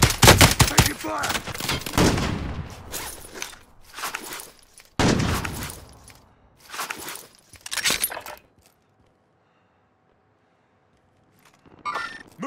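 Gunfire in Call of Duty: Modern Warfare rattles out in sharp, close bursts of automatic shots for several seconds, then cuts to near silence before one more short burst.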